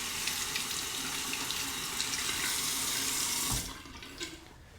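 A tap runs steadily as a razor is rinsed, giving a close, continuous splashing hiss that cuts off near the end, leaving a few faint drips and handling sounds.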